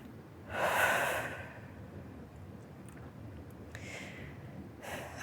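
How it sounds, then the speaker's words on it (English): Two slow, deep breaths close to the mic, a long airy inhale and exhale followed by a softer second breath, in an otherwise quiet room. "So let's take a couple deep breaths."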